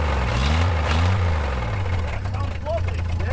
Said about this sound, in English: Might have a little rod knock.